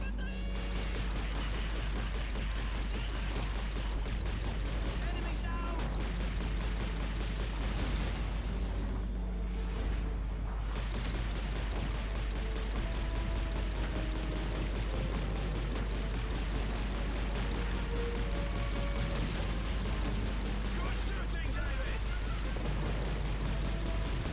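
Continuous gunfire from Call of Duty 2 as the player shoots at attacking planes, a dense, unbroken barrage of shots with blasts mixed in, steady and loud for the whole stretch.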